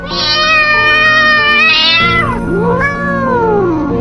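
A cat gives long, drawn-out meows, two loud wailing cries close by, the second rising and falling in pitch.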